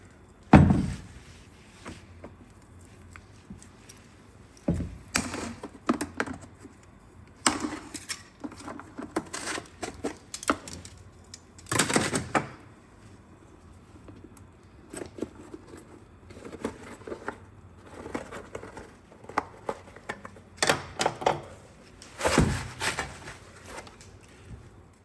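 Shop tools cut open the dust cover of a Lexus RX450h air suspension unit during a repair, giving scattered thumps, scrapes and handling bursts at close range over a quiet background.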